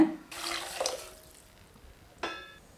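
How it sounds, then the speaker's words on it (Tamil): Water, about a litre, is poured into a pot of mixed vegetables for ragi soup. It gives a short gushing splash that fades, then a brief second splash follows. "இப்போ ஒரு லிட்ரு பக்கம் தண்ணி எடுத்துருக்கேங்க இதை சேர்த்து"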